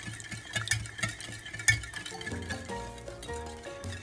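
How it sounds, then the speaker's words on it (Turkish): Half a glass of yogurt is whisked in a bowl with quick rhythmic strokes. The utensil clinks and scrapes against the bowl in close, repeated bursts, and no voice is heard. "Ve şimdi bunu şöyle bir çırpacağım."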